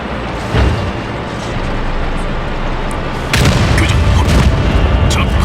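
Tank cannon blasts from a World of Tanks match in the winter Ruinberg map, featuring the AMX AC 48, sound as deep booming shots, with a heavier burst midway, over a constant rumbling game backdrop and some talking.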